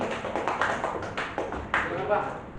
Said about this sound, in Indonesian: Ya tepuk tangan dulu tuh Pak Madinaku kita nih.